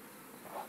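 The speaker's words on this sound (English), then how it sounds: "So we got bees flying up in the air," Bees from a caught swarm lift off the floor of a boat and fly about, giving a faint, steady buzzing hum that swells slightly near the end of the short stretch, with no voices.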